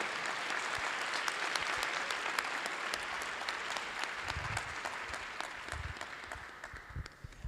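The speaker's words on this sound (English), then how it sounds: "how about one more round of applause for the big group," Audience applause at a university capstone design expo, a steady wash of many hands clapping that slowly thins out, with a few low thumps underneath.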